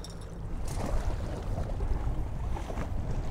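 Outboard motor on a fishing boat held in gear while muskie fishing in Witch Bay, a steady low rumble with water and wind noise throughout, no talking.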